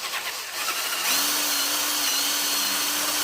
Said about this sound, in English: we'll see if we can get the old right angle drill in.